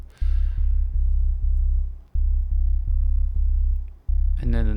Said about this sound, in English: There's a sub by itself.